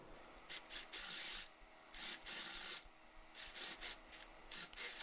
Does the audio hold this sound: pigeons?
no